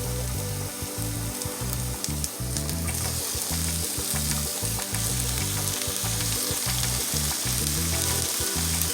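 Ground beef fries with minced garlic in a pan, giving a loud, constant sizzle broken up by rhythmic scraping and stirring thuds, heard close up with no talk.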